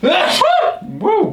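A single loud, sharp human sneeze bursts out at close range, followed at once by a voiced exclamation and brief talk.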